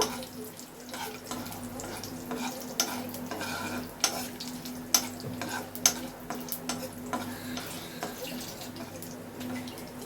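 Cloves crackle in hot oil in a pan while palak paneer is being cooked, and a utensil scrapes and stirs them. The sizzle is steady and close, with scattered sharp clicks and no voices.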